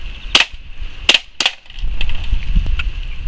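A WE Glock 18 gen3 airsoft gas blowback pistol fires three sharp, loud semi-auto shots, the first alone and the next two close together, followed by faint handling noise.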